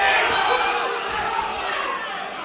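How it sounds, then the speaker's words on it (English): Partisan crowd at a Combat Challenge North East amateur boxing bout roaring and cheering continuously, a dense, loud wash of shouts that swells early and stays sustained throughout. "the crowd obviously enjoying that little turn in favour of the fight there"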